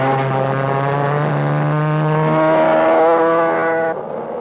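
A 1961 McCulloch-engined go-kart racing at full throttle gives a steady, buzzing two-stroke drone. The pitch rises slightly and holds, then the sound drops off abruptly near the end.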